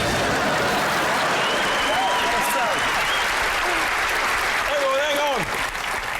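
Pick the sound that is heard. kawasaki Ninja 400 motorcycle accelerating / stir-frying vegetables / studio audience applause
studio audience applause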